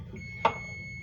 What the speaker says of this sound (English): Okay, our timer's going off.